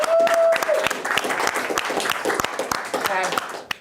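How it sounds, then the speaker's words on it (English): Round of applause for Olivia at a Hall of Fame sports night finale, a crowd clapping steadily from the start, with a voice briefly over it near the beginning and again toward the end. "can we get a round of applause for Olivia?"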